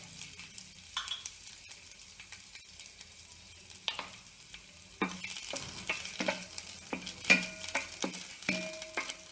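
Raw pepper kernels roast in a pan with turmeric, a faint dry sizzle broken by scattered spoon scrapes and taps that grow busier toward the end, heard close and without speech.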